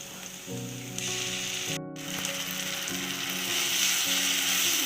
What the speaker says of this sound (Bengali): আদা রসুনটাও কিছুক্ষণ ভালো করে কষিয়ে নিতে হবে যাতে কাঁচা গন্ধ একদম চলে যায়